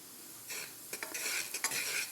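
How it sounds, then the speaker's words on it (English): Butter going into a preheated pan set just below medium heat, with a soft sizzle and light metallic clinks and scraping of a utensil against the pan, fairly quiet and close, no talking. "I'm going to add 1 of the teaspoons of butter to the pan."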